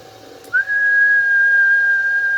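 A steady whistle blown into a radio microphone to test a booster amplifier's peak power, one sustained tone starting after a brief click and holding loud and even to the end.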